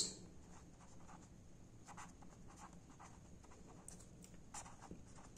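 Chalk or marker strokes on a board during a physics lesson, faint and distant, coming as short scratchy taps and swipes in an irregular rhythm over a low room hiss.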